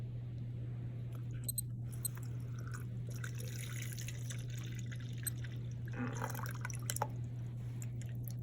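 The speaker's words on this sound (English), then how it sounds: "Let's see how fast water can move through this sediment." Water drains through a sediment sample in a lab tube during a groundwater experiment, a faint steady trickle with scattered small drips over a constant low hum, with no voices.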